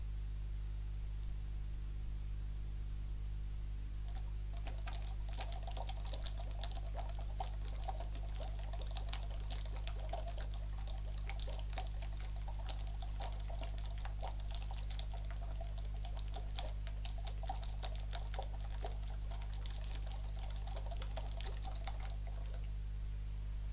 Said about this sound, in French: souffler dans la paille, mais vraiment pas vraiment d'une façon très linéaire et faire des bulles le plus longtemps possible